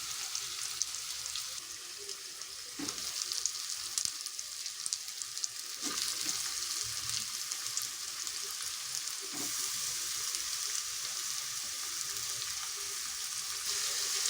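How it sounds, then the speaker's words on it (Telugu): Dried fish frying in oil in a home kitchen, with cut ridge gourd pieces about to go in for a curry: a constant soft hiss and sizzle with a few brief stirring clatters, no voices over it. "ఇవి వేగిపోతున్నాయి కదా ఇందులోనే బీరకాయ కట్ చేసిన బీరకాయ ముక్క కూడా వేసేస్తుంది"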